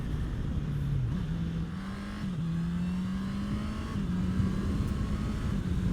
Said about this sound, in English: the exhaust sound is so quiet